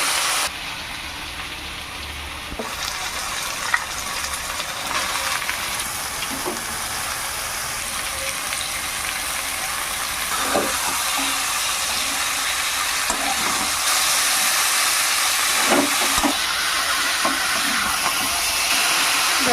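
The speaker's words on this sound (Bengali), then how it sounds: "কষানো হয়ে গেছে এবার আমি কপিগুলো দিয়ে দেবো" Cabbage tipped into a pan of spiced potatoes frying in oil sets off a steady, close hiss of sizzling that grows slightly louder, with a few soft knocks and stirring clatters along the way and no talking.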